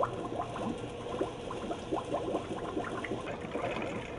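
A Pitco P14 fryer filter machine pumps oil back into the fryer with a steady, close mechanical churning and rattling, gurgling evenly throughout with no voices.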